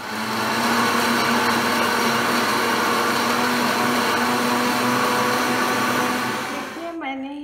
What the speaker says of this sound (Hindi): मैंने ये ग्राइंड किया तो इस तरह से थोड़ा मोटा मोटा हो गया है